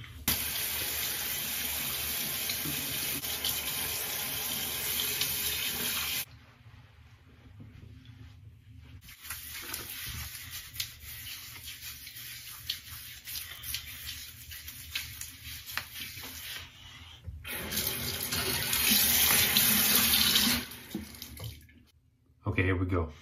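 Tap water runs steadily into a sink while a head is washed before shaving, a loud hissing flow that stops and restarts several times, with a person talking during the quieter gaps.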